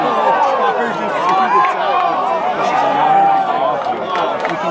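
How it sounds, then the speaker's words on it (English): A rugby crowd at a Vikes versus Westshore match roars in a loud, sustained swell of cheering and shouting that stays dense and steady throughout, with no pause. "You can hear the crowd erupting."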